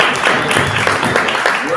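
A short burst of audience clapping at a live panel discussion on upcycled foods, indoors and fairly close, with a voice mixed in.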